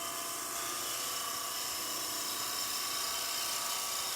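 A Crown Cryo turning tool smooths a timber surface on a spinning wood lathe, giving a steady, faint high-pitched whirring hiss that runs unbroken throughout with no voices.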